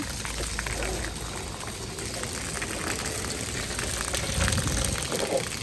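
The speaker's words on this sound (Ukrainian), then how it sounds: "хочу вам показати, що я ноги мию" Water running while feet are washed outdoors in Hawaii: a continuous splashing, rushing wash of water, fairly close and steady, with some background noise throughout.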